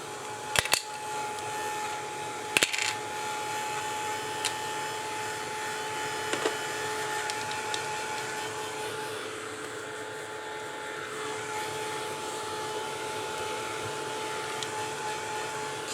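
A craft heat tool blasts hot air to dry a mixed media canvas, giving a continuous, even whooshing drone for the whole stretch, with a few sharp clicks near the start.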